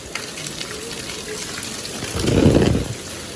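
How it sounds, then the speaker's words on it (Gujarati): Heavy rain pours down on a flooded street in Surat, a steady, dense hiss throughout that swells into a louder, fuller rush near the end. "કંઈક આવા રીતનો વરસાદ પડી ગયો છે મિત્રો સુરતમાં"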